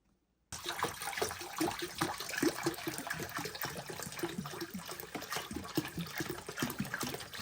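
Vinegar flushed through a tankless water heater pours steadily into a kitchen sink, a continuous close splashing gush that starts abruptly after a brief silence and runs unbroken.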